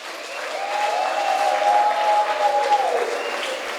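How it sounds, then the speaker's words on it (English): Sustained applause from a gala dinner audience fills the room steadily, a dense even patter holding for several seconds before easing slightly. "can you give this a round of applause?"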